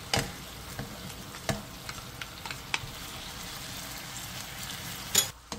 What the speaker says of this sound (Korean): 물이 끓어오르면 중약불로 줄여 양념을 자작하게 졸여주세요.